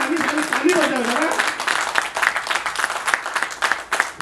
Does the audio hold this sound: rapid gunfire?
no